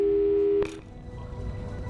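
Telephone busy signal in the video game Portal 2 sounds as a loud, steady electronic tone that holds for about half a second and cuts off abruptly, followed by quiet room noise.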